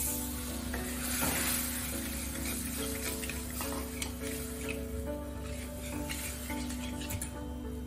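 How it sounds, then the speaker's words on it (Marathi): Steady scraping and stirring of sugar syrup in a pan for peanut and milk powder fudge, with a soft sizzle underneath, continuous and close by, with faint ticking clicks. "सतत ढवळत राहायचं नाही तर काय होतं, साखर बुडात तशी चिटकून राहते कढईला."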